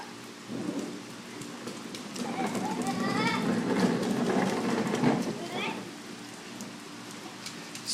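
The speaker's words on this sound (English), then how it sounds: "So much rain in Georgia." Heavy rain pours steadily outdoors in Georgia, a constant hiss of drops on surfaces, while children's voices chatter and call out nearby over the downpour.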